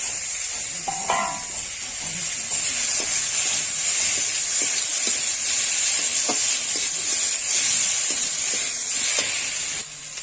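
Fried prawns hit a hot pan and sizzle steadily, a loud, continuous hiss with faint clinks of stirring scattered through it and no voices.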